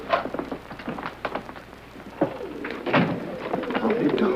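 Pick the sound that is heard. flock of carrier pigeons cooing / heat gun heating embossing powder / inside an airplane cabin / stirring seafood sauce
flock of carrier pigeons cooing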